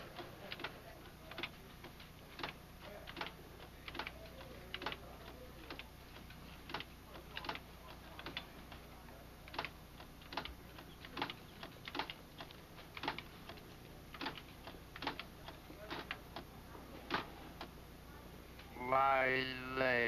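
Keys clatter in quick irregular bursts of typing on a 1980 computer terminal keyboard, close and moderately loud, with a short electronic voice-like sound at the end.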